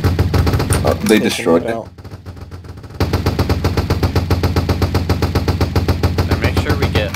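In a Roblox shooting game, a group fires on a bridge in loud, rapid, continuous bursts that pause briefly and then resume nonstop, with people talking over the shooting.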